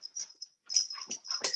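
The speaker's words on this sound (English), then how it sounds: "sorry if you hear my puppy running around in the background there" A puppy moving about indoors makes faint, close whimpers, snuffles and soft high whines in short bursts, quiet and alone with no talk.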